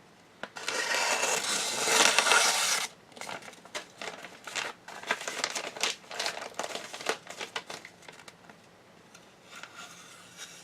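Thin paper crinkles and crumples as an Ancient Greek Mycenaean-era sword slices through it, with several loud bursts of rustling followed by quieter scattered crackles and rustles.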